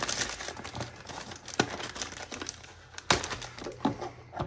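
Plastic packaging around an LED light strip crinkles and crackles as it is peeled open, with close, irregular rustling and several sharp pops of tearing plastic.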